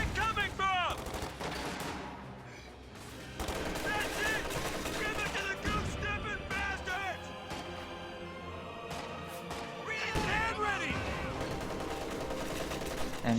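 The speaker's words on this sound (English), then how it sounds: "MG34 firing at a few" An MG34 machine gun firing in a World War II strategy game: sustained rapid bursts mixed with other distant shots and battle noise, heard under steady game sound throughout.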